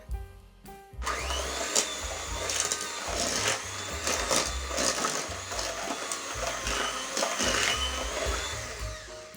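Electric mixer whirring steadily as it blends marble cake batter, the motor loud and close with uneven surges and dips in pitch throughout, no voices.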